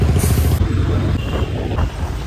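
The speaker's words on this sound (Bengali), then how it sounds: "বাসেই উঠে পড়লাম" Inside a nearly empty bus on a ride toward Howrah station in Kolkata, a steady low engine rumble and road noise fill the space, loud and continuous, with no talking.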